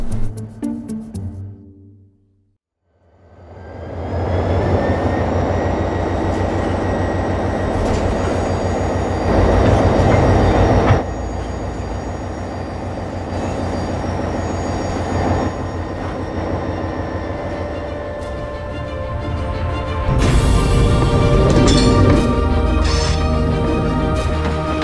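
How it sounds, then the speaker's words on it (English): A train starts moving, hauled by a steel plate attached with adhesive: a sustained rumbling rail roll with metallic clanking and squealing, loud and steady after a brief quiet start, with no talk over it. "So this is the bonded plate that's actually going to pull the train."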